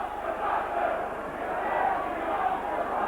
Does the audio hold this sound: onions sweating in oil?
no